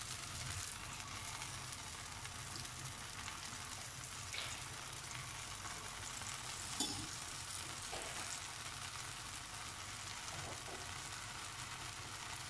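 Rava dosa studded with dry fruits and nuts frying on a hot pan, a soft, steady sizzle and crackle with a few faint stirring scrapes, quiet and continuous.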